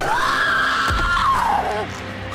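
A long, shrill, blood-curdling scream from the Mortal Kombat video game as a character's face is eaten by flesh-eating bugs, loud and close, rising then wavering and fading out over about two seconds.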